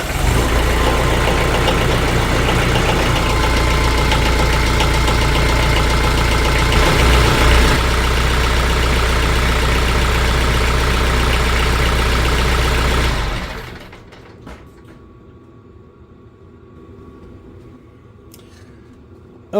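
A TYM T474 tractor engine idles after a Shell Rotella T4 15W-40 oil and filter change, a loud steady diesel rumble close by that cuts off around thirteen seconds, leaving quiet.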